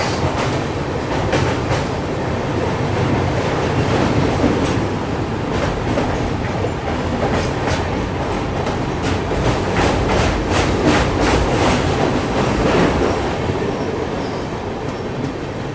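Gorakhpur–Yesvantpur Superfast Express train passing close by on an Indian railway line, a loud steady roar with rhythmic clickety-clack of wheels over rail joints throughout, no voices.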